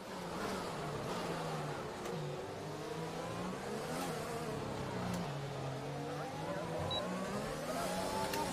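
A race car engine in the F1 2021 video game revs hard and continuously. The pitch rises and falls in sweeps through repeated gear changes, loud and unbroken.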